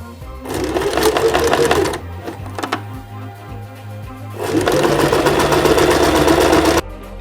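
A sewing machine stitches a seam in a buff scarf. It runs in two loud, close bursts with a short pause between them, and some clicks and handling noises fill the gap.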